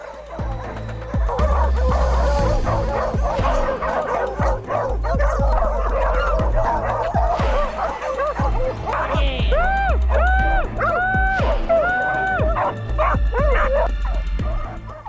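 Bull Arab hunting dogs bark and yip repeatedly and loudly, with some whimpering whines mixed in, forming a busy, continuous chorus close by.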